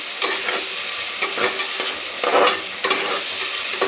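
Chopped onion sizzling and frying in hot oil in a pan for matar pulao, with a steady hiss and scraping stirs at regular intervals, close and fairly loud, with no talking.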